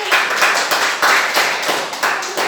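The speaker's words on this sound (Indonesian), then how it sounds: "Tepuk tangan untuk" A classroom of students claps for classmates. The group clapping comes in close, loud, rhythmic bursts that repeat steadily throughout.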